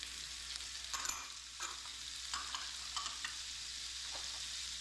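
Zucchini, green peppers and green onion cook in melted butter in a pan left from frying bacon, giving a steady soft sizzle with a few brief stirring scrapes over it, fairly quiet and with no one talking.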